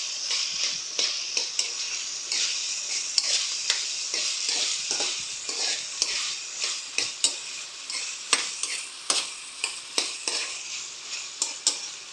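Potatoes and carrots frying in oil for menudo, with a soft sizzle and repeated spatula strokes against the pan at a steady, rhythmic pace, close and clear, with no talking.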